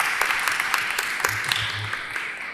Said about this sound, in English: Please, can you give our partners an applause?